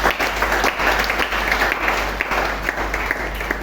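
A church congregation applauds the Lord during a French-language sermon, with steady, dense clapping from many hands that stays loud and sustained throughout.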